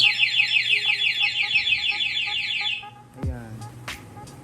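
A Yamaha anti-theft alarm fitted to an Aerox v2 motorcycle sounds in a fast, repeating warbling siren pattern for about three seconds, then cuts off, followed by a brief downward sweep and a few faint chirps.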